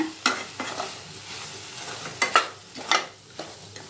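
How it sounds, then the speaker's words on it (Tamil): Vegetables for rava kichadi being sautéd over a medium flame, a quiet background sizzle broken by a few sharp scrapes and clinks of a spoon stirring in the pan, with no talk. "மீடியம் ஃப்ளேம்லேயே வச்சுட்டு நல்லா இது போல் வதக்கிட்டே இருங்க"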